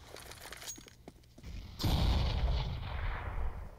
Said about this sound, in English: Nade going deep inside here.